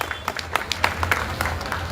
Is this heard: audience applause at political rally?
yes